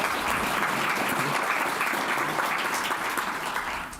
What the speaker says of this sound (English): Let's give another round of applause for our panelists